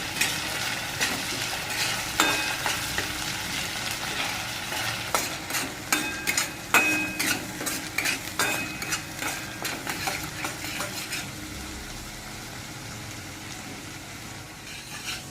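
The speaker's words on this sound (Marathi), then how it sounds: "हे बघा आपण एक दोन मिनिट याला चांगला मस्त फ्राय करून घेतलेला आहे" Onion masala for Maharashtrian shev bhaji fries in a pan over high heat, with a constant sizzle under repeated scraping strokes of a spoon against the pan, close and rhythmic, easing off near the end.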